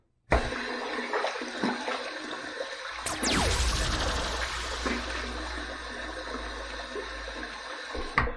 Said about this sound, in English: All right, let's wet the face.